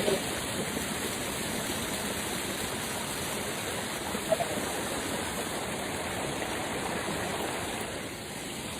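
A powerful waterfall in a forest roars steadily and close, a dense unbroken rush of water with no voices.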